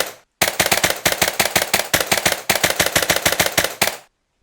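Rapid automatic gunfire from a modded gun in Minecraft, two loud sustained bursts of evenly spaced sharp shots separated by a short gap, with silence before and after.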